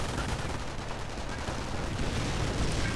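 Dense, continuous gunfire and explosions from a World War II strategy video game battle, with grenades and anti-tank rockets in a fight around a Sherman tank, a loud, unbroken barrage throughout.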